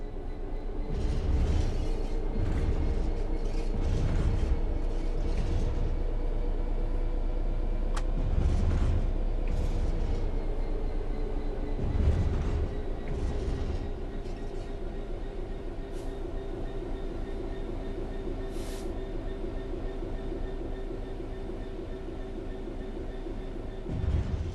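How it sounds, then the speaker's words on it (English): Locomotive coasting on level track in Train Sim World 4: a steady low rumble with repeated rail clatter and rhythmic wheel thumps, slowly easing, heard continuously with no talk. "The train will then coast on level ground, and the train will only slow down very gradually"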